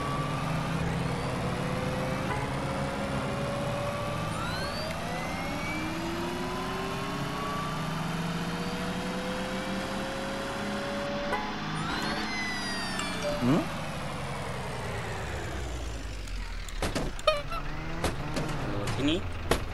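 A car engine revs and accelerates while driving in a video game, its pitch climbing and dropping through several gear changes, with a person talking throughout.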